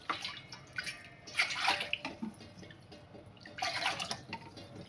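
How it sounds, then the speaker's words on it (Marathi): Water is measured into a bowl and poured into a pot for cooking wheat dalia lapsi: faint splashing pours in a few short bursts, close and quiet, with no talk. "आपण 1 वाटी दलियासाठी 4 वाटी पाणी घेणार आहोत आणि आपण मोजून घेणार आहोत पाणी"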